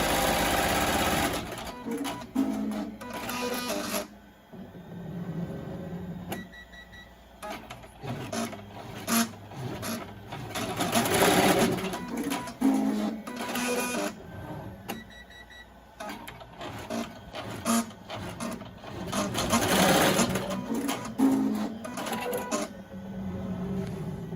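A Melco embroidery machine stitches fabric down onto a mask. Bursts of fast, rattling needle chatter rise and fall with brief lulls between runs, heard up close with no talking.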